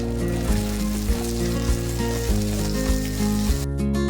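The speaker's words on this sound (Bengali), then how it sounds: "টমেটোটা হালকা ফ্রাই করে নেব" Onion, green chilli and chopped tomato fry in a pan for a pomfret dopiaza, a steady hiss of sizzling beneath prominent background music with a regular pulsing beat.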